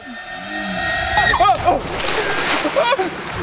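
A person tumbles into water, a sudden loud splash followed by sloshing and churning water, with excited voices shouting over it.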